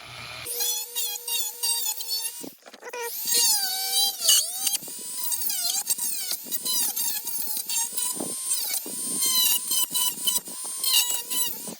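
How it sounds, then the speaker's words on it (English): A Dremel rotary tool cuts plastic on a custom toy jet model, its high whine rising and dipping in pitch as the bit bites in, running almost continuously at close range with brief pauses. "Dremel is a great tool for this kind of stuff. Makes quick work of that plastic."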